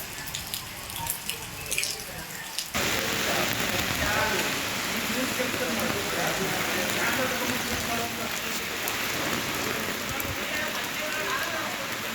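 A steady roar of heavy rain pours down in Mysuru, loud and continuous, starting abruptly after a few seconds of quieter background with faint speech.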